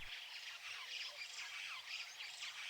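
Hooded vultures squawking and chattering at an impala carcass left by a leopard, a faint continuous mix of harsh calls from a distance with no speech.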